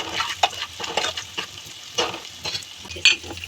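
Onions frying with salt in a pan, stirred so that soft sizzling sputters and spatula scrapes come in irregular bursts, fairly close and moderately quiet, with no talking.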